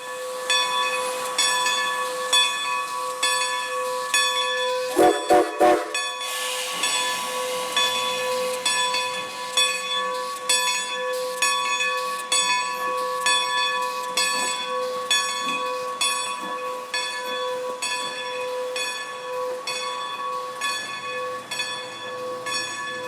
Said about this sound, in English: Here the locomotive once again runs around to the other end of the train.